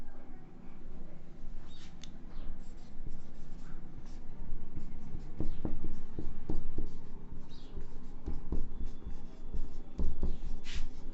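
Marker or chalk scratching across a classroom board in bursts of short strokes and taps, fairly close, with faint background noise and a little voice in places.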